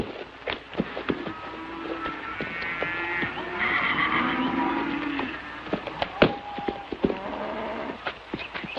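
A horse whinnies in a long, wavering call, loud and close, with scattered clatter and knocks around it.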